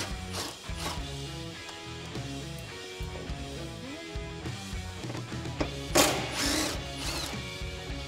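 A ratchet with a 10mm deep socket removes two nuts from a suspension bracket on a Jeep Wrangler JK, giving a steady run of close, fast mechanical clicks with a few brief louder metallic knocks.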